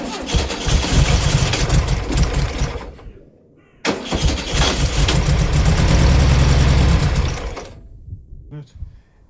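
A Volkswagen Type 2 engine with two-stroke oil in the fuel cranks and fires loudly, cuts out briefly, then restarts and runs rough and close before dying down near the end.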